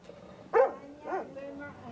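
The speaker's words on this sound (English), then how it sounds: "Those are guard dogs." Guard dogs barking at a home in Puerto Rico, two sharp barks close by with fainter barking after, over background voices.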